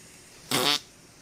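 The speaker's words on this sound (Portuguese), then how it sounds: "Como diferentes idades peidam versão homem." A single loud fart bursts out for about a quarter of a second, close and raspy with a buzzing flutter, alone against quiet background hiss.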